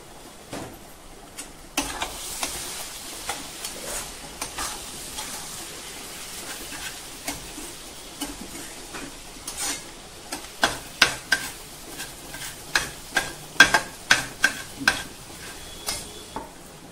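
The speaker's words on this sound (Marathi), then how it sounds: "आणि परतवून घेऊया छान" Spices sautéed and stirred in a hot pan for a Maharashtrian poppy seed curry: a steady low sizzle beneath repeated close spatula scrapes and taps, which grow sharper and more frequent toward the end.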